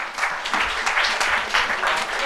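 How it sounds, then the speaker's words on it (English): A school audience at a quiz competition claps in dense, continuous applause, close and lively, with the clapping holding steady throughout and no clear talk over it. "Let's hear a round of applause"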